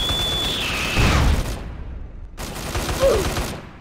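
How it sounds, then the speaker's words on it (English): A grenade goes off in GTA San Andreas during a battle royale match: a loud burst of blasts and gunfire-like pops around the first second and a half, then a short gap before more rumbling gunfire follows. "Take this grenade, you son of a bitch."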